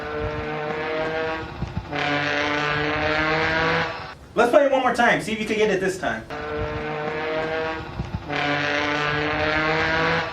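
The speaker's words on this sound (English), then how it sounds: "someone playing a trombone while riding on a bike" Long, brassy trombone blasts, played while riding a bike, are held steadily, broken by a short stretch of talking in the middle before the blasts return.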